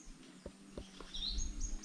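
A bird calling near a spot with chickens and scattered bones, short bright chirps rising over faint low knocks and soft background noise.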